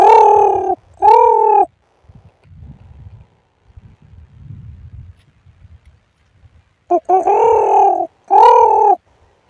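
A man imitates the call of a white-breasted waterhen, giving loud paired hooting cries at the start and again near the end, with a quiet gap of soft rustling between them.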